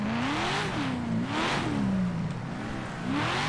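A Lamborghini engine in a video game revs and climbs in pitch in repeated rising sweeps, loud and close, with no talk over it.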